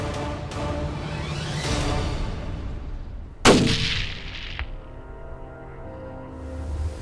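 A single loud rifle shot fired at a mule deer while hunting in Colorado, a sharp crack with a long rolling echo that fades over a few seconds, heard close and alone without talk.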